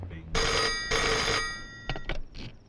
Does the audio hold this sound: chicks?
no